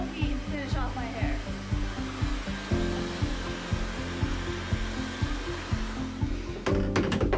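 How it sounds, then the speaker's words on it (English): A Bopcal hair dryer on low heat blows through hair in a steady, close airy rush with a faint motor whine, rising and dipping slightly as it moves, with background music. "That might have been some of the fastest I've ever blow dried my hair here at home using my own hair dryer"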